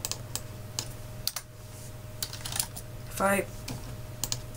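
A computer keyboard clacks as someone types a short phrase, producing sparse, crisp individual key taps spread across a few seconds, close and fairly quiet, with a brief spoken word in the middle.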